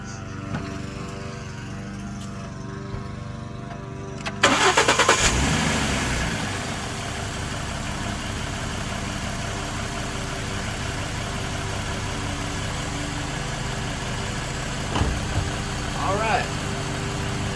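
A 2011 Mustang V6 cranks and catches after spark plug and intake manifold work, then settles into a steady, even idle that runs on close and continuous, with brief talk over it.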